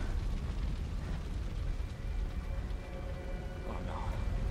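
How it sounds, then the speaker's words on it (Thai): A rumbling in-game explosion in Resident Evil 2 booms loudly and then trails off into a sustained, heavy low roar of debris and fire. "มีระเบิดด้วยนี่"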